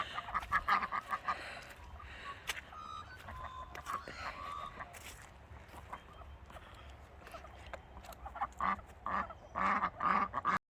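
Ducks in a garden quack and honk in a lively cluster, with overlapping calls that swell near the start and again toward the end, heard fairly close in open air.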